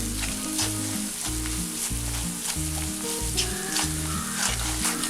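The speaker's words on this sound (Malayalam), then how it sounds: "ഇനി ഇത് നന്നായിട്ടൊന്ന് മൂപ്പിച്ചെടുക്കാം" Coriander, chili and pepper powders roast in a pan with a continuous soft sizzle and stirring, heard under a looping background music track.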